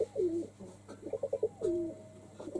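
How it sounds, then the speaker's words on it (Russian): Pigeons coo nearby in soft, throaty bursts, a low rolling call followed by a quick run of pulsing notes, fairly quiet over a faint background hum. "Голуби"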